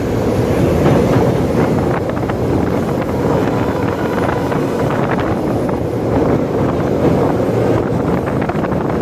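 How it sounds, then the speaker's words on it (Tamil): A train rumbling steadily across the Pamban sea bridge near Rameswaram, India, with a rattling clatter and heavy wind buffeting, loud and continuous throughout. "ரயில் பயணம் பாம்பன் பாலத்தில்"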